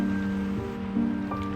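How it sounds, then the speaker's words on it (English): Steady rain patters on a grey, gloomy spring day, an even wash of drops with a low hum underneath and no one speaking. "Today is a very grey, gloomy, rainy day"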